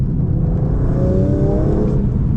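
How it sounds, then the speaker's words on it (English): A 2025 Aston Martin Vanquish at full throttle gives a loud, dense engine roar with a steadily rising pitch as it accelerates hard, heard close from inside the car with no voices. "I'll give it full throttle."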